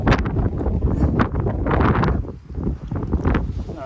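Strong gusts of wind buffeting the microphone on a mountain saddle at a hang-gliding site in Omarama, New Zealand, rumbling and roaring in heavy waves with brief lulls, loud and close.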